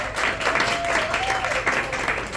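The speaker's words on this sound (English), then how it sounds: "Big round of applause for JJ." An audience at a magic show applauds a volunteer called up on stage, clapping loud and continuous under a speaking voice.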